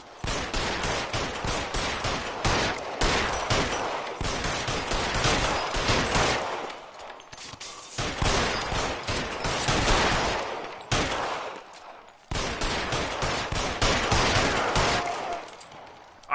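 Gunshots from the video game LA Noire during a rooftop shootout, loud and close, with sustained rapid volleys broken by brief pauses and almost no talk.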